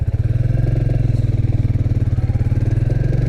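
A 2022 Royal Enfield Classic 350 single-cylinder motorcycle idles and pulls away, its loud, close, even thump pulsing rapidly and steadily with no talk.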